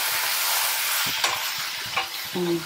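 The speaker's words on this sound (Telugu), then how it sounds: "నూనె వేసి మగ్గియాలి." Gongura leaves cooking in oil in a pan, a continuous sizzle and hiss of frying with soft stirring scrapes and a couple of brief knocks, close and steady throughout.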